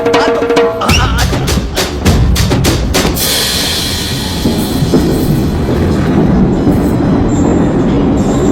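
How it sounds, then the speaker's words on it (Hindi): A train departs in a Hindi film scene, with a loud rumbling roll of railway carriages and clattering wheels, preceded by a few sharp bangs, and a steady, close mechanical roar throughout. "मेरी ट्रेन छूटी जा रही है"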